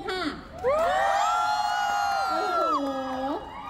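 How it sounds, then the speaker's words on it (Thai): A crowd of fans at a Thai product launch event lets out loud, sustained high-pitched screams and cheers, a dense wall of shrieking voices lasting a few seconds. "ขอเสียงกรี๊ดนิดนึงค่ะ"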